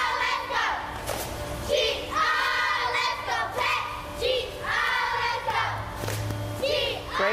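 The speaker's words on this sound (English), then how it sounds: "our beautiful cheerleaders here at Peck Elementary continue to just cheer us on" Young Peck Elementary cheerleaders shout rhythmic chants in unison, bursts of high, bright voices repeating in phrases, with claps and stomps beneath and the group close and loud.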